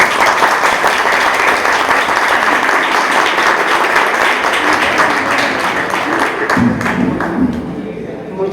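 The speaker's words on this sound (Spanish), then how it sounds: "Pido para ella un fuerte aplauso." An audience at a public lecture gives a speaker strong applause, dense continuous clapping close and loud for most of the stretch, then easing off near the end as it thins out.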